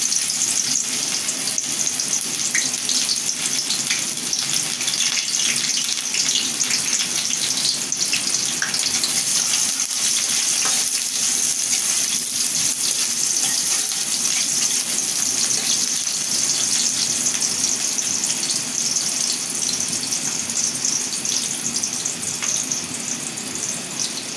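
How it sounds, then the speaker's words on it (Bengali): Onion dropped into hot oil sizzles and fries with a dense, steady hiss, loud and close, continuing unbroken for over twenty seconds in a home kitchen. "আমার তেলটা গরম হয়ে গেছে, পেঁয়াজটা দিয়ে দিই"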